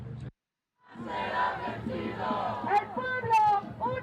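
Protest crowd on the street at Wilshire and MacArthur Park, many voices shouting and chanting together at moderate distance, rising and falling after a brief silence, with some individual yells standing out.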